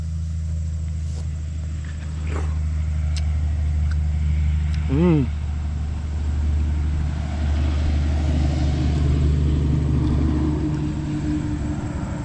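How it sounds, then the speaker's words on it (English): A truck pulling a trailer rolls past outdoors near a fruit orchard, a steady low rumble that swells gradually toward the end over constant background hum. "I hear a truck trailer coming now"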